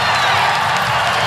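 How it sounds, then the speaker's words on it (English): Home crowd at a Louisville women's college basketball game rising into loud cheers and applause, a thick, close roar filling the arena for just over a second. "You hear that Louisville crowd coming to life here"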